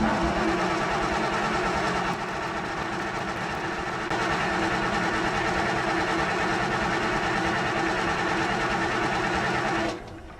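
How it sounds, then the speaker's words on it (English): An excavator diesel engine cranks over steadily and loudly for about ten seconds with its injectors off and spraying, a continuous close churning drone that cuts off abruptly near the end. "And we should be okay to crank it."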